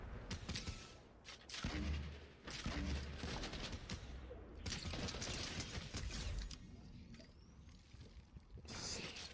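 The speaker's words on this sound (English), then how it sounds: "The grenade launcher is kind of coming in clutch right now." A grenade launcher fires in a Fortnite battle-royale match. Dense, quiet game audio carries repeated bursts of weapon fire and mechanical clatter, with no talk.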